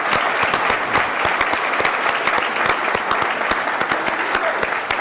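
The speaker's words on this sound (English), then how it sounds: "Give them a round of applause." A conference audience applauds at a lunchtime address, dense steady clapping from a sizable crowd sustained throughout, with a few sharper individual claps standing out.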